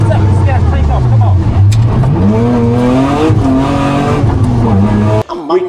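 Race car with a broken ABS unit braking hard until the wheels lock up, a loud engine drone sliding in pitch with harsh scrubbing noise, then cutting off abruptly near the end.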